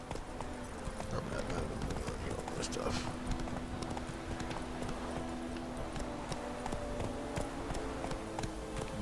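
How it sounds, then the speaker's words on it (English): Roach, the horse in the video game The Witcher 3, gallops with rapid, steady clip-clop hoofbeats mixed with in-game ambience, while a player talks briefly over the sound. "Run, Roach. My horse is named Roach."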